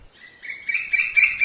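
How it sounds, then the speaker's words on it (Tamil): A cartoon koel gives a run of shrill, repeated whistling calls that grow louder in short bursts, clear and alone against a quiet background. "இதுதான் என்னோட ஜோடி குயில், புள்ளி குயில்."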